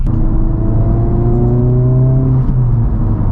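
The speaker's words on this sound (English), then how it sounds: "Just that little bit of turbo whistle you get" Inside a 2023 Honda Civic Type R (FL5) on a test drive, a steady engine drone carries a faint rising turbo whistle over the cabin hum, with no talking.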